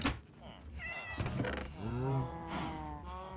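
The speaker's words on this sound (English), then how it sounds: "Did that cat just spawn into existence right in front of my eyes then?" A Minecraft cat gives a few meows, mixed in with speech and game sounds, heard at moderate volume in a Bedrock edition world.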